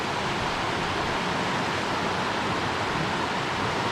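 Cooper River rushing over rocks in an alpine wilderness, a steady, full broadband roar of flowing water, close and unbroken with no voices.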